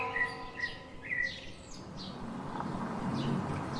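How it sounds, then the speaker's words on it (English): Several short, bright chirps from a sparrow come in quick bursts, fairly close and clear over a steady low background hiss that grows slightly toward the end. "Sparrow means Gauraya."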